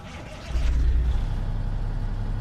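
Cummins engine of a Kenworth W900 truck in American Truck Simulator, a deep low rumble that swells up after half a second and holds steady and loud.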